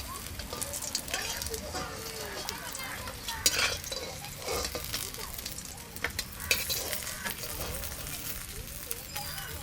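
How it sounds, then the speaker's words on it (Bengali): Pieces of rohu fish fry in oil in a pan, a steady close sizzle with scattered crackles and a few scraping stirs throughout. "মাছগুলো ভাজা হয়ে গেছে লাল লাল করে"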